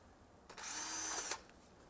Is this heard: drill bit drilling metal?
yes